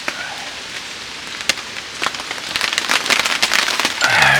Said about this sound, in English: You can hear the rain going